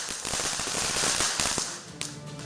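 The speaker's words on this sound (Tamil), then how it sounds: "சிறியவர்கள் முதல் பெரியவர்கள் வரை பட்டாசுகள் வெடித்து தீபாவளியை கொண்டாடி வருவதை நேரலையாக தற்போது நாம் பார்த்து வருகிறோம்" Firecrackers bursting in the streets of Tiruvannamalai during a Diwali celebration: a dense, continuous crackle of sharp pops and bangs with a louder crack near the end, no voices.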